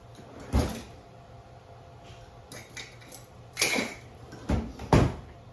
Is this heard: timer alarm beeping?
no